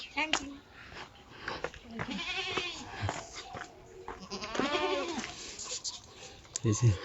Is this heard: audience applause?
no